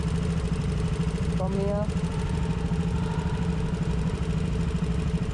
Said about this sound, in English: Can you hear the engine?